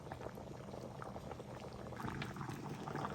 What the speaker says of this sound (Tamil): இப்போது 3 நிமிஷம் நல்லா கொதிக்குது.